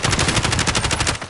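Rapid automatic gunfire rattles in Warzone, a loud, close burst of evenly spaced shots lasting just over a second.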